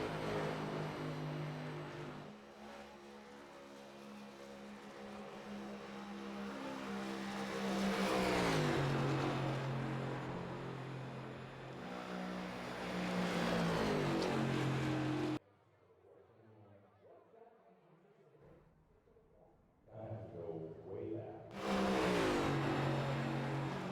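A lone race car lapping the track in qualifying for the ARCS Darkside Mustangs A2 Cup Series Midwest Barbeque 200, engine droning loudly with rising and falling pitch as it passes, briefly dropping away before returning.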